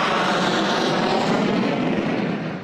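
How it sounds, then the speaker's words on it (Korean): A military fighter jet roars steadily and loudly as it comes in low to land on an adjacent runway, a dense continuous engine rush with no speech. "땅에 거의 닿을 듯 내려앉은 전투기 소음은 최저 100데시벨."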